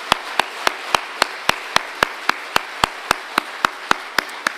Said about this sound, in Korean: 뜨거운 박수로 축복하겠습니다.